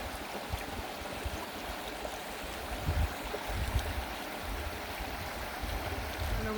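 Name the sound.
creek fed by melting snow flowing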